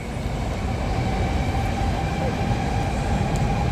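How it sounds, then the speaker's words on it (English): A Shinkansen bullet train rushes past at an evening station in Tokyo, a steady, dense roar of wheels and wind that holds constant and fairly loud throughout. "Oh, there's another Shinkansen passing here."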